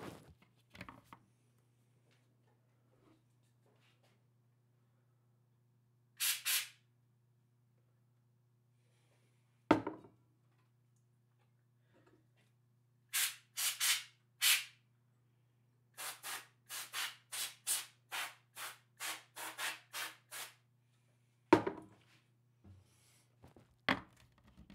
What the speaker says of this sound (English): I'll go ahead and spray a couple sprays of the canned air into the heatsink fan